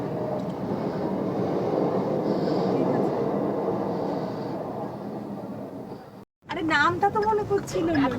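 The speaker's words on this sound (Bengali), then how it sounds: "দাঁড়িয়ে আছি ট্রেন যাচ্ছে" A train passes at Halisahar station, a broad, steady rumble that fades over several seconds before a brief cut, after which a person talks close by.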